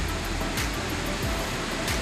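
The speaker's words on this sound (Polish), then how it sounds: "Pływać no to tu się nie da, bo fale są takie" Ocean surf on an Australian beach, a broad continuous roar of breaking waves with swells every half second or so, loud and close with no voices.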